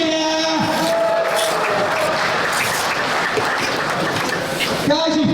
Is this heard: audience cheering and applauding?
yes